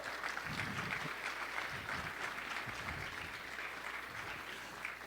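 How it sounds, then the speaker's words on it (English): Steady audience applause fills a breakfast meeting of the Pennsylvania delegation, a dense, even wash of many hands clapping from start to finish with no voices rising above it. "Give them a huge round of applause."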